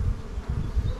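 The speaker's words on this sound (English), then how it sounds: "so we've still got bees in here" Bees in a backyard beehive keep up a close, continuous low buzz that pulses slightly in loudness.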